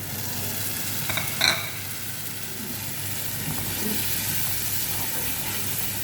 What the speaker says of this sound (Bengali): মশলাটা একটু গুলাই দিলাম